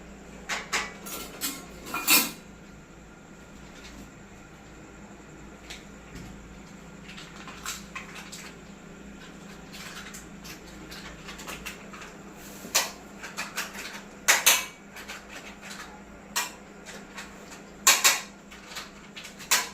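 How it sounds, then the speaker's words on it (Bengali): Pet food plates being set down and handled, with scattered metallic clatters and clinks arriving in irregular clusters, some sharp and close, over a low background hum. "ওদের প্লেটের আওয়াজটা ঠিক বোঝে"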